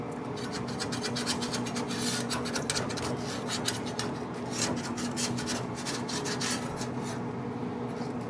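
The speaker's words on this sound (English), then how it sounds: "you have to get the spatula out to get it off of the rack" A metal spatula scrapes tender smoked pork butt off a smoker rack, a continuous rasping, grating scrape close to the mic with quick repeated strokes.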